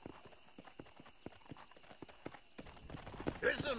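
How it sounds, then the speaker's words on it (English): Horse hooves clip-clop at a steady pace in the Red Dead Redemption video game, moderately near, with people talking over the hoofbeats and a busier burst of sound near the end. "Let's wrangle us a horse."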